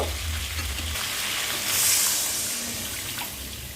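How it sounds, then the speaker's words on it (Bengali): Broth is poured into a pot of frying mutton curry, a gush of liquid swelling over the sizzle and stirring, then settling back into a quieter simmering hiss. "এই পর্যায়ে আমি এখন ঝোল দিয়ে দিব।"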